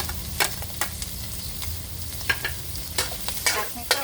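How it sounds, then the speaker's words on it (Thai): Sliced luffa and red chili stir-fried with pork in a hot pan, a steady close sizzle with repeated scraping stirs of the spatula. "เอาบวบกับพริกแดงเราเนี่ย ลงไปผัดใส่หมูค่ะ"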